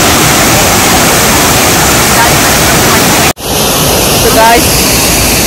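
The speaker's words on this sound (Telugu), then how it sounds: "ఇది ఇంకా క్రేజీ అంటే క్రేజీ పెద్ద వాటర్ ఫాల్" A large waterfall near Munnar, Kerala, roars loud and close as a steady, dense wash of crashing water, broken by one sharp momentary dropout partway through.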